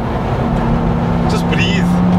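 A turbocharged Volvo S60R pulls hard in third gear, its engine a loud, close, sustained drone whose pitch climbs gradually under heavy broadband roar.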